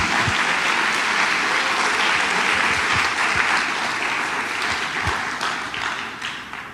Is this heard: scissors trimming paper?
no